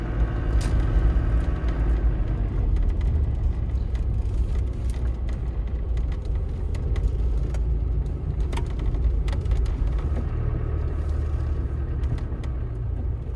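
A 1995 Range Rover County diesel accelerating on the road, heard from inside the cabin as a steady loud low rumble with road noise throughout.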